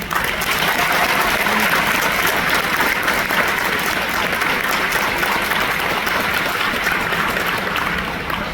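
Passengers aboard the cruise ship Star of the Seas give a huge round of applause to veterans at a tribute ceremony. The clapping is loud, dense and sustained, an even wash of many hands that holds for over eight seconds.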